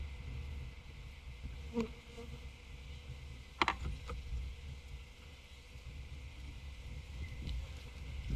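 Honeybees hum around an open hive as a nucleus colony is moved into full-sized frames, a low steady drone with a few brief louder buzzes and clicks passing close by.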